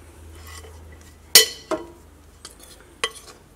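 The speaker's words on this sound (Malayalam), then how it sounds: "കുറേശ്ശെ ഇട്ടിട്ട് ചേർത്ത് മിക്സ് ചെയ്തെടുക്കുക" A spoon stirs flour into plum cake batter in a bowl, giving a few sharp, separate clinks against the bowl over a quiet background.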